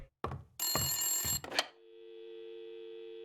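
A telephone bell rings in the video game Blacksad: Under the Skin, a few clattering strikes around one sustained ring, then a click as the receiver lifts and a steady electronic dial-type tone hums on alone.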